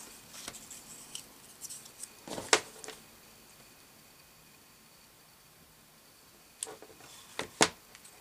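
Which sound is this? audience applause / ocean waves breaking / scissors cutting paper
scissors cutting paper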